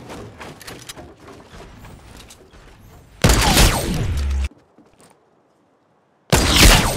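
Sniper rifle shots in Fortnite Battle Royale, two loud, sharp cracks with a booming tail, spaced a few seconds apart and separated by near silence, following a stretch of quieter gameplay ambience.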